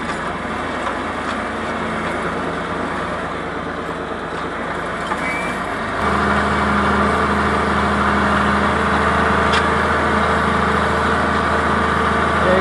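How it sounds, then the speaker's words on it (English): A John Deere 4020 tractor pulls a lightweight disc through a field, its diesel engine droning steadily at moderate load, the note shifting abruptly partway through and then holding a louder, even hum. "you don't need to run this tractor all that hard with this little lightweight disc behind it"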